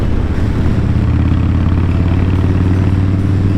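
A Harley-Davidson Wide Glide motorcycle, about seven years old, runs steadily with a deep, loping low rumble, close and loud without interruption.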